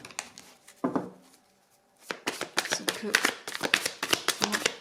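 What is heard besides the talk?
drawing and handling tarot cards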